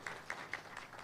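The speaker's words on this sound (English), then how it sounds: "Let's give her a warm round of applause." Sparse, faint applause at a Development Partnership Forum meeting: a handful of evenly spaced claps, quiet and somewhat distant, with no talking.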